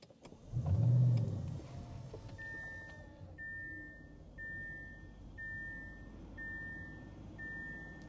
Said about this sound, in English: Let's go ahead and fire it up with our red accented push button start.